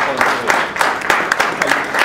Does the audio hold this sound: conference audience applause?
yes